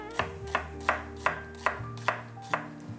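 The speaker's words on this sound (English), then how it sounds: "Shallots, just sliced." Eight crisp knife chops slicing shallots on a cutting board, spaced evenly about every half second, close and clean with a short ring after each stroke.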